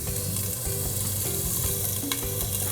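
Loud, close sizzling of a New York strip steak in a hot pan with butter, a dense hiss and crackle that keeps going without pause.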